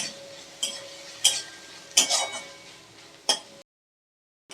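Spices fry in a pan and are stirred, with four or five distinct scraping clacks of a spoon over a light sizzle, then silence at the end.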